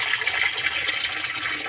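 Two bowls of water pour steadily into a pot of chicken tinola soup, a continuous close splashing rush with no speech.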